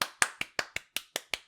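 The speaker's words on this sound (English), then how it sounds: "I'm clapping because he said the line." One person claps hands eight times in a brisk, even rhythm, about five claps per second. Each clap is sharp and close, and no voice is heard.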